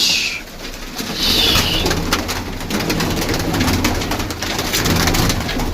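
Pigeons coo softly on a rooftop amid a busy, noisy outdoor background, with continuous low murmuring and clatter throughout.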